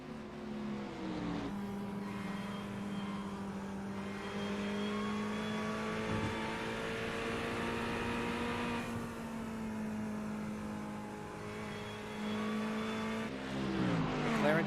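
Race car engines in the iRacing sim hold a steady high-pitched drone, with shifting revs and passing cars layered in, while a race commentator talks over the sound throughout.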